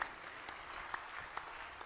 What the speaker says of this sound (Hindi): एक बार इनके लिए ताली बजाइए।